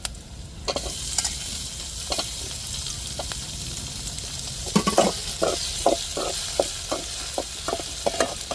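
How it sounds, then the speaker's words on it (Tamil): Tomatoes sautéing in a pan for a soybean curry, a continuous sizzle with a quickening series of spatula scrapes and taps against the pan, close and fairly loud, with no talking. "இப்போ நம்ம தக்காளியை சேர்த்துருவோம்"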